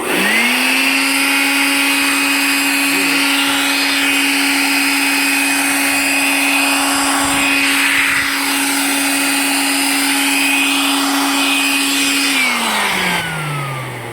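A motorized blower cleans the stairs of a vehicle, its steady loud whine running close and unbroken for the whole stretch before winding down at the end.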